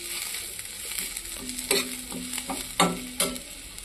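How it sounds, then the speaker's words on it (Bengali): Chopped onions sizzle in hot oil in a pan while being cooked for a thin pointed gourd curry, with a steady hiss broken by a handful of sharp scraping stirs near the end and no talking. "এই দেখো পেঁয়াজটা ভাজা ভাজা হয়ে গেছে"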